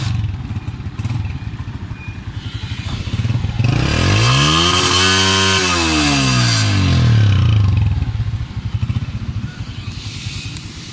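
A Honda motorcycle engine putters steadily nearby, then revs up smoothly, holds, and winds back down to a loud, close idle with a rattly chug.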